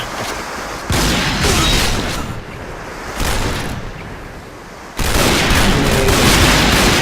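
Loud, dense bursts of rapid automatic gunfire from the online shooter game Point Blank, fired in long sustained volleys separated by brief lulls, with no talk over it.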